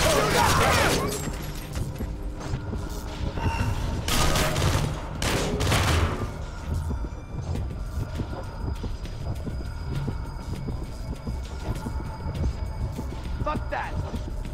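Bursts of gunfire from the Splinter Cell Conviction video game crack out in the first few seconds, loud and rapid, then give way to quieter clatter while game characters shout over it.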